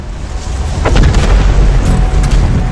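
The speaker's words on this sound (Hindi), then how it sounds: "इस विस्फोट से जन्मी झटके की लहर 550 किलोमीटर प्रति सेकंड की रफ्तार से आगे बढ़ी।" A deep, loud boom rumbles as a sound effect for an asteroid impact explosion, rising into a sustained roaring low-end blast that fills the whole stretch with heavy continuous rumble.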